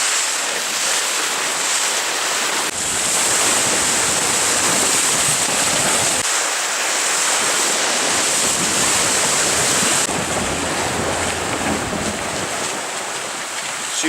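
Constant roar of wind and rushing sea waves aboard a racing sailboat running dead downwind in about 20 knots off the Spanish coast near A Coruña, loud and steady with heavy wind buffeting on the microphone.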